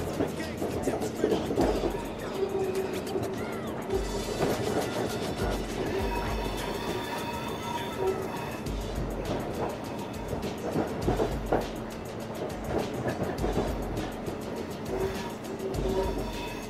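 A train pulling into Adelaide station, with a steady rolling rumble and rhythmic clatter of wagons running continuously throughout, loud and close, with voices faintly present under the rail noise.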